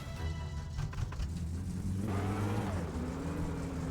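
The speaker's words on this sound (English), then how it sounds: "Squeaky brakes." Squealing car brakes in the driving simulator game My Summer Car, a sustained high squeal bending in pitch over a steady low engine rumble, with no talking.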